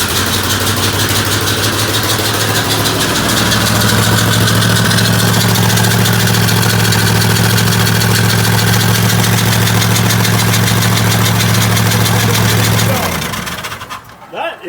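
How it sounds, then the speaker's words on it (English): A Ford F250 engine idles loudly with a deep, rough rumble and a raspy exhaust-leak sputter, holding steady before cutting off near the end. "Is that the world's worst exhaust leak, or is that something more serious?"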